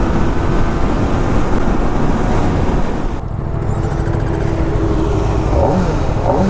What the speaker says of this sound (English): This bike is on stock, but even then it sounds crazy.